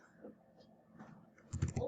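Quick, soft keystrokes on a computer keyboard as a search term is typed, ending in a tighter burst of clicks, faint and close.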